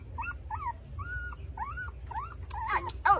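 A puppy growls and whimpers close by, a string of short, rising whiny yips and grumbles over a low rumbling background, growing a little louder toward the end.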